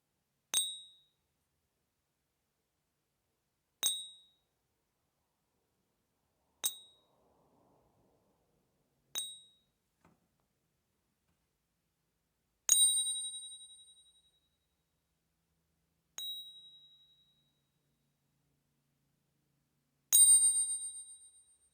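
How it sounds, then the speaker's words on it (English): A series of bright metallic rings from struck silver coins, seven in all, each struck alone with a short ringing decay, the last few longer and louder. "test whether a coin is real or not is with its sound"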